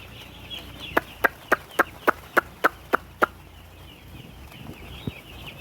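Young poultry chicks on a farm, first day after arrival, giving a quick run of nine evenly spaced loud peeps followed by quieter scattered calls.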